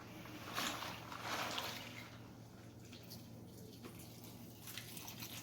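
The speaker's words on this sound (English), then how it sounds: "We're going to drip all of the liquid out until it stops dripping" Liquid drips and trickles from a home-brew grain bag lifted out of a bucket, a faint, steady patter of drops over a low background hum.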